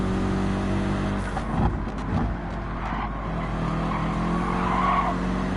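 Gran Turismo 7 race car in a GT3/GT4 daily race, loud steady engine drone with a burst of tire skidding and squeal as the rear end snaps out in oversteer, then continued hard acceleration out of the corner.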